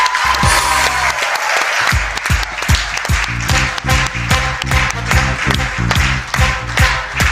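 Audience at a Pakistani comedy show applauding, loud dense clapping from a crowd that rises into rhythmic, sharply accented unison claps, continuous throughout.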